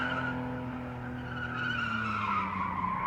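A Holden Gemini race car with a 3.8 litre V6 conversion skids at Winton, its tyres squealing in a long continuous screech over the engine's drone, loud and sustained, with no voices.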